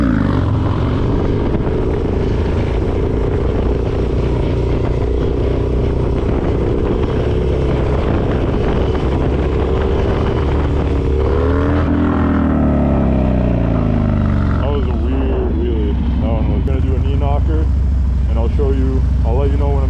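A Harley-Davidson Dyna motorcycle engine drones steadily during a wheelie, then dips and rises in pitch around the middle before settling back, heard close and loud with a rider's voice over it.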